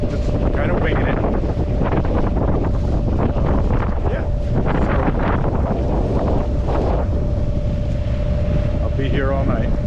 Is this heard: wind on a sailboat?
yes